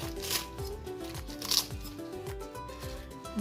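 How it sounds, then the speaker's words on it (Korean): Scissors snip soft, tender vegetable leaves for water kimchi in a quick, regular series of close, crisp cuts, with a faint rustle of the leaves in between. "이렇게 가위를 가지고 이렇게 지금 오리고 있어요"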